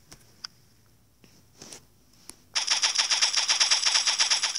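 A pistol fires in fully automatic mode, a rapid, even burst of shots that begins abruptly after a few faint clicks and handling sounds and continues to the end.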